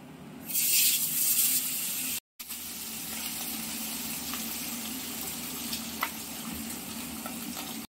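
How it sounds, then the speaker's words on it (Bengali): Fish frying in hot refined oil, a loud steady sizzle that flares brightly at first, then settles into a continuous crackling hiss with a few small pops, close by and alone after a brief cut. "ভাজা হচ্ছে মাছ"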